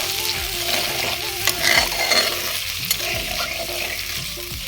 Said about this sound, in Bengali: তো দেখো ঝোলটা ফুটে উঠেছে